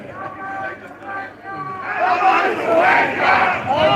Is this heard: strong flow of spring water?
no